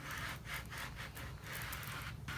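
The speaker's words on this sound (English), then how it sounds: "with my burnishing tool, I'm just going to smooth it down" Burnishing tool rubbed over a Decal 651 vinyl decal, producing close, soft scraping strokes in a quick repeated rhythm, at a low level with no talk.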